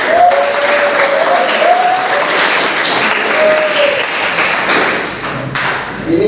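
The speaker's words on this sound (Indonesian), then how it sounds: "Tepuk tangan dulu." A school class applauds together, a loud, dense patter of clapping that carries on steadily with some thumps, while a voice is heard faintly underneath.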